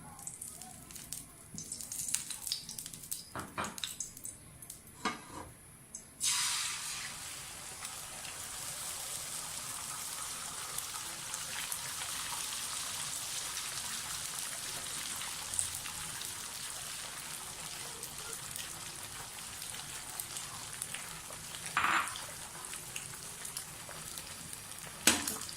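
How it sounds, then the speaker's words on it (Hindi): Eggs fry in cooking oil on a hot tawa while chicken fried rice is prepared. A few soft clanks come first, then a loud, steady, hissing sizzle begins and runs on evenly for about twenty seconds, with occasional crackles. "तवे पर थोड़ा सा कुकिंग ऑयल डालें, तवा गरम हो गया हमारा अंडे फ्राई करने के लिए।"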